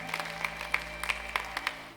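A church congregation claps in applause, the sharp claps crisp and fairly close, irregular but steady, sustained over a droning hum in the background.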